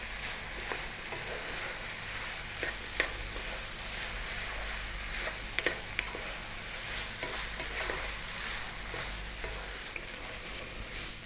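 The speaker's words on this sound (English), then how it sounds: "Much easier now to stir fry this." Singapore noodles being stir-fried in a pan, a steady soft sizzle with intermittent light scrapes and taps of a utensil, close but fairly quiet, no talking.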